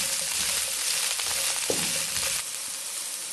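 Bell pepper (shimla mirch) stir-fries in a pan over a high flame for chow mein, a loud dense sizzle with a brief scrape of stirring midway, then the hiss drops a little and carries on alone.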